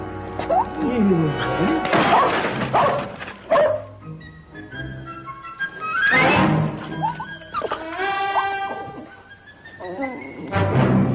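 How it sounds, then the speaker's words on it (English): A puppy barking and yipping in a classic western TV program, repeated sharp yips and barks with whimpers, close and loud, mixed with someone talking. "If you ain't the beatin'est dang dog I ever seen."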